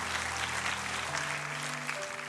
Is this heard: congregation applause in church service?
yes